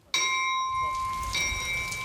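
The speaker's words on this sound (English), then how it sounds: "A bell for each sub, each sailor lost." A memorial chapel bell at a submarine veterans site rings once, close and clear, its bright tone sustaining and slowly fading, with faint rain patter beneath.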